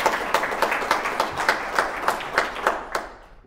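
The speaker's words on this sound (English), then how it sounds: "We clap for that." Audience applause after a talk on implicit bias, a short burst of distinct hand claps in a quick, fairly even rhythm that fades out at the end.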